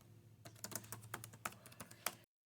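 Rapid typing on a ThinkPad laptop keyboard, a close, quiet run of crisp key clicks in an irregular rhythm lasting about two seconds before cutting to silence.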